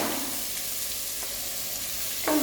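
Chopped carrot sizzles in a pan for fried rice, giving a steady, close frying hiss throughout with a brief stirring clatter at the end.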